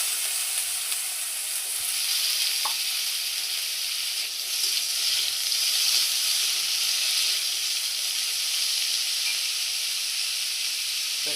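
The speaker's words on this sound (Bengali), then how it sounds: "এই আলু আলু তেলের পর দিয়ে দিলাম।" Potatoes fry in hot oil in a pan, giving a steady, bright sizzle and hiss close up, with a few faint clinks and no talking.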